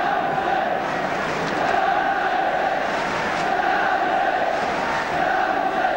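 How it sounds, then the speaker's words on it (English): A 1970s English First Division football crowd at a Manchester United versus Tottenham match: a massive, unbroken roar of chanting and cheering voices echoing around the stadium, loud and sustained the whole time. "the crowd trying to do their part in bringing about the first goal"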